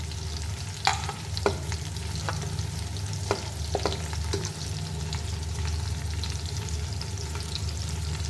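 Onions frying in a pan with cloves, cardamom and cinnamon, a constant close sizzle broken by several sharp stirring clicks and scrapes, with no voices.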